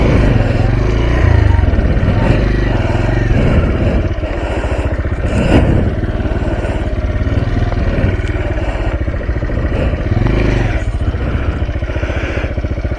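A motorcycle engine runs close and loud beside a railway line, idling and revving unevenly as the bike is ridden and turned around on a very narrow path, with clattering and a few bumps throughout.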